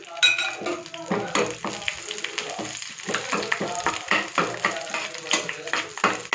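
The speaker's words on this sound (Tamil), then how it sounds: "கடுகு நல்லா பொரியட்டும்" Mustard seeds, lentils and dried red chillies crackle and splutter in hot oil, a dense, busy popping that continues steadily throughout.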